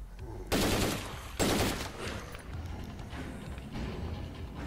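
Gunfire in the zombie game State of Decay 2: two loud, dense bursts close together near the start, followed by quieter, scattered shots and rumble from the game action.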